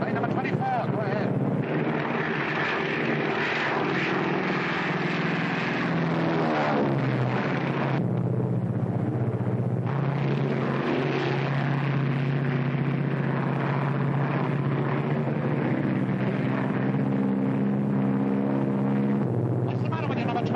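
A propeller aircraft engine drones steadily in flight, a loud continuous low hum with a steady tone that runs throughout, and voices talking over it at times.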